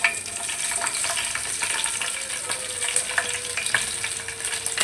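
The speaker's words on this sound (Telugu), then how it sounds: "బాగా ఫ్రై చేసుకోవాలి పచ్చిమిర్చి స్లోగా పెట్టుకొని బాగా ఫ్రై చేసుకోవాలి" Green chillies and bay leaves frying slowly in oil in a pan, a dense loud crackling sizzle with spatter pops and a few metallic scrapes of a spoon, no voices.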